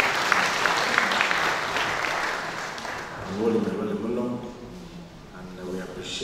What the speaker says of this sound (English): let's give the church a big round of applause